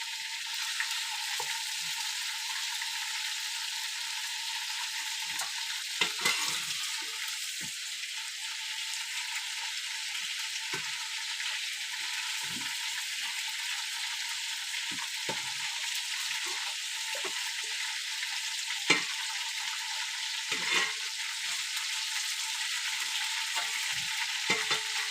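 Chicken roasts in a pan while being stirred, with a continuous close sizzle and intermittent scraping and clicking stirs, no voices.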